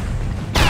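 A grenade explosion in Sniper Elite V2 Remastered at the Karlshorst command post: a single sudden loud blast that erupts late and rings out, following a low steady background rumble.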